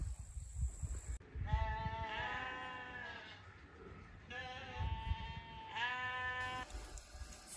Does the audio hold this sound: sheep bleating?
yes